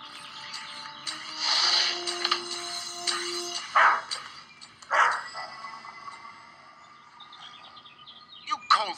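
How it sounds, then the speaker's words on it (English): A cartoon dog barks a few times in a Sherlock Holmes animated episode, short sharp yaps spread across the clip along with a whining, whimpering tone and other soundtrack noises. "the dog only barks at strangers"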